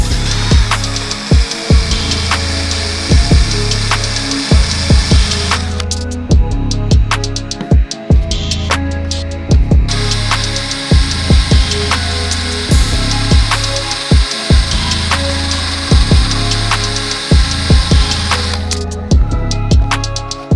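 A power drill whirs loudly and steadily while removing adhesive from a BMW G80 M3, the tool scraping and rubbing against the surface in repeated strokes, close up with no talking.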